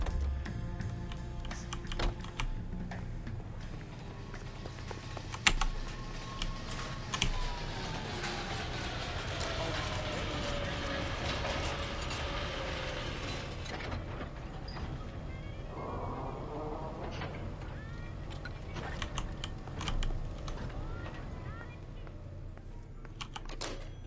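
Computer keyboard and mouse clicks during play of L.A. Noire, rapid scattered key taps over a continuous low game rumble of engines and ambience, fairly close, with occasional brief talk.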